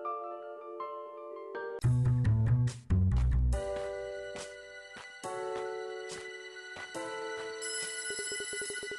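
An electronic phone ringtone chimes in a detective video game. A melodic synthesized ringing pattern repeats over several seconds, clear and fairly loud with bursts of game music tones in between.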